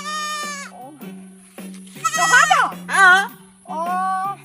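A goat bleats repeatedly at close range, four or five wavering, drawn-out calls separated by short pauses, over a faint steady hum.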